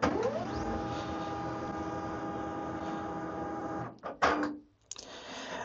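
A Samsung Xpress M2070W laser printer initializing after power-on following a factory reset, a steady mechanical whirr and hum that runs for several seconds, then stops with a few clicks and short motor bursts.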